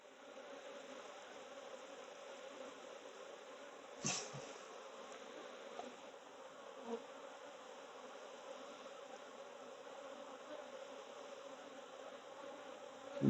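Honey bees hum steadily around an open hive during early spring swarm-control work, a continuous soft drone with a few faint knocks as frames or boxes are handled.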